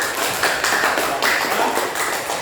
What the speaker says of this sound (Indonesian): beri tepuk tangan kepada kelompok 4